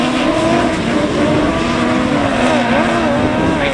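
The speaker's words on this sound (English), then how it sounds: "Absolutely flies out of the gate then, Sam Gould in North Shropshire 344." A class 8 autograss race car roars out of the starting gate at a Nottingham meeting, loud and close with a rising, revving engine note and overlapping engines.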